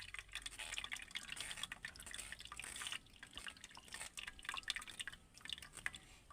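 Bael fruit juice strained through a sieve, with liquid dripping and trickling steadily into a bowl below, close and alone.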